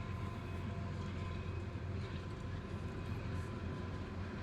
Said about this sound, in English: And another freight train. Freight train coming.